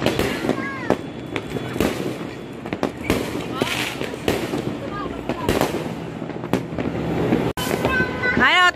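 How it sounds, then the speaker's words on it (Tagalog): Fireworks burst repeatedly at a New Year's Eve celebration, sharp cracks and booms scattered irregularly, with whistling rockets rising and people talking and cheering throughout. "May enjoy mo ang panonood ng fireworks."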